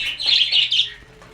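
Small birds chirp and tweet in an aviary where newly arrived doves have joined other birds, with bright overlapping calls in short bursts that fade toward the end.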